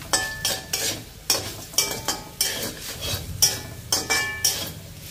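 A spoon stirs fried chana dal and cumin tempering in a pan, producing about nine rhythmic scraping strokes against the metal over a light sizzle.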